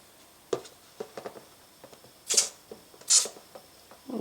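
Smith & Wesson Bore and Action Cleaner jets from a spray can into a cup in two short, hissing bursts, close and crisp, among soft clicks and handling taps.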